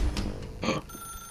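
A telephone rings in The Stanley Parable video game, giving short bright electronic bursts over a low background hum with no one talking.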